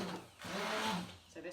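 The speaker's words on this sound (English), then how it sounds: "you can also use a handheld stick blender, and this works really well too" A handheld stick blender purees cooked butternut squash, giving a short motorized whir that rises and falls, with a speaking voice heard over it.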